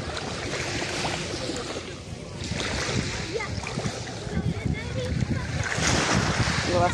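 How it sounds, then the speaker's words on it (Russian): Pleasure boat cruising on the sea off Antalya, heard as a steady broadband wash of waves and wind with microphone buffeting, continuous and moderately loud throughout, with faint voices in the background. "Прогулочный кораблик плывет."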